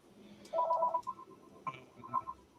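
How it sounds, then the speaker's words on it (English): Telephone ringing indoors with a short electronic tone burst followed by a few brief trilling chirps, moderately loud with no talk over it. "I apologize for the phone."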